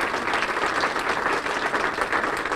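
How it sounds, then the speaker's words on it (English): Audience applause at a Comcast store ribbon cutting: a steady, dense wash of many hands clapping at once, sustained and fairly loud for the whole stretch. "give a huge round of applause to what I think is the best service and sales folks in the industry"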